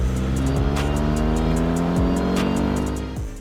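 A 2024 Kawasaki ZX6R supersport motorcycle engine pulls steadily in sixth gear at low revs, a loud continuous drone with rising harmonic pitch and gear-like steps, no talk.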